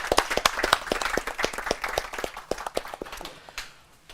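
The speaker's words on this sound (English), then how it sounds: "Big applause." Audience clapping at an online accelerator demo day, sharp individual claps from a small group that start strong and gradually fade out over a few seconds.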